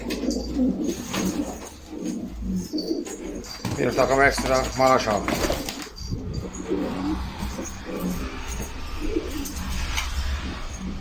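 Maraş flight pigeons coo in low, throaty bursts, loudest in a short run near the middle, while someone talks over them and other birds chirp faintly.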